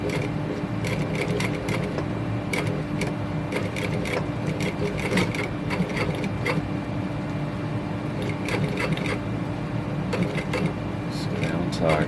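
A sewing machine runs steadily through a lock stitch, a continuous close mechanical whir with rapid needle ticking, while a person talks over it.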